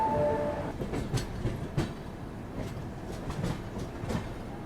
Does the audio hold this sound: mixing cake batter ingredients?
no